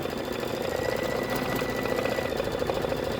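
An embroidery machine hums and chatters with a steady, rapid mechanical rhythm, stitching a satin outline, continuous and fairly loud throughout.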